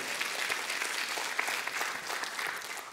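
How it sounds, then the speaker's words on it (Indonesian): A church congregation applauds at a Sunday service, a steady wash of many hands clapping together, fairly even and moderately distant, with no voices over it. "Berikan tepuk tangan sekali lagi saudara."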